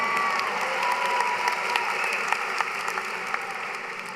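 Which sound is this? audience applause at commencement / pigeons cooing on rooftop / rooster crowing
audience applause at commencement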